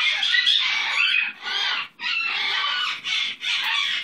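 A pet bird gives a run of loud, close, harsh calls in bursts, with brief pauses between them, heard on its own.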